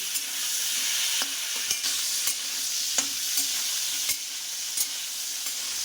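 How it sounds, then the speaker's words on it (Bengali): Potatoes sizzle steadily in hot oil, a constant crackling hiss, with occasional scrapes and clicks from stirring. No one speaks. "চলো আলুটা একটুখানি ভেজে নিয়ে আসছি"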